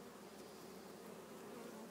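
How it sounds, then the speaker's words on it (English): Honey bees buzzing around a hive's crown board, a continuous, even drone with no voices, steady and faint throughout. "Look at the bees on the crown board."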